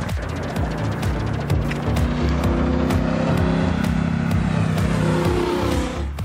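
Triumph Bobber motorcycle engine pulling hard under acceleration, a loud, steady mid-range roar with rising revs and a throbbing low exhaust note, close and continuous for several seconds.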